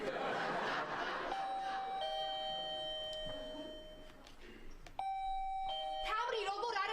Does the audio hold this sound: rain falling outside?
no